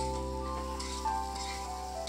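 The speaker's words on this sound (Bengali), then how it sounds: "বেগুনটা একটু নুন আর হলুদ দিয়ে ভেজে নিচ্ছি।" Eggplant fries with salt and turmeric for a methi shaak ghonto, giving a continuous, close sizzle with occasional stirring, under soft background music.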